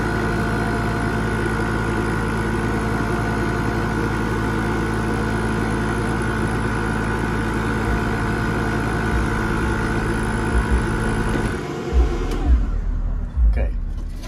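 Steady mechanical whirring from a K40 laser cutter's air assist pump and exhaust fan, loud and constant for about eleven seconds before cutting off abruptly, leaving a few faint knocks.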